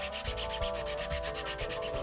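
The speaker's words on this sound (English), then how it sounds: "I just use another piece of sandpaper that I fold into thirds to give it some thickness, and then I just sand that by hand" Folded sandpaper rubs by hand over 3D printed guitar parts, a steady close scratchy back-and-forth with strokes roughly every third of a second, continuous and alone.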